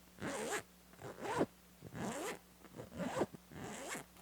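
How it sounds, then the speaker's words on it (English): A heated hunting glove's zipper is pulled five times in quick succession, each a close, rasping zip with brief pauses between. "The only complaint that I would have about this is this zipper right here is pretty loud"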